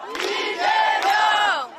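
At an outdoor political campaign rally in Gongju, South Korea, a crowd lets out a loud, sustained cheer, many voices shouting together in one rising and falling swell.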